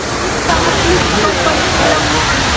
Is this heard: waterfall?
yes